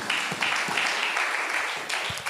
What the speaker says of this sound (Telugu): ఒకసారి గట్టిగా చప్పట్లు కొడదామా ఒక్కసారి?